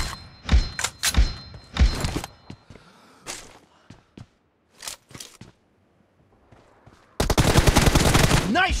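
Gunfire in a team deathmatch video game: several sharp single shots early on, then a dense, loud burst of rapid automatic fire near the end, with brief silences in between.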